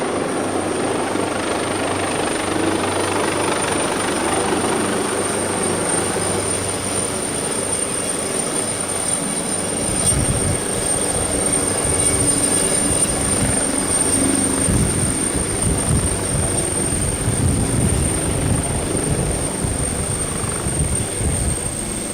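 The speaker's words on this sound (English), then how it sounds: "I think the 139 is quite possibly one of my favorite helicopters." An AW139 helicopter arrives at the 2025 Verticon event, its loud, continuous rotor and turbine roar filling the air with a steady high whine above a rumbling throb.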